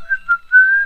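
A person whistles an imitation of a repeated whistle in a few short tonal bursts, with a brief rising chirp followed by a longer sustained note, clear and close with no talking.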